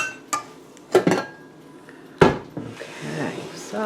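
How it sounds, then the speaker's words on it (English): Spatula scraping graham cracker crust mixture from the sides of a mixing bowl, a few short scuffs and knocks against the bowl, close and moderately loud, with faint clinks in between. "Scrape it all down, guys."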